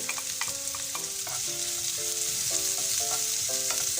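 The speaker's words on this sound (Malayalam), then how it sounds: "അതിലേക്ക് നമ്മൾ അരിഞ്ഞു വെച്ചിരിക്കുന്ന വെളുത്തുള്ളിയും ഇഞ്ചിയും ഇട്ട് ഒന്ന് വഴറ്റിയെടുക്കാം" Chopped garlic, ginger and onion sauté in sunflower oil in a pan for a vegetable burger filling, giving a steady, close crackling sizzle with occasional stirring scrapes, while soft melodic background music plays underneath.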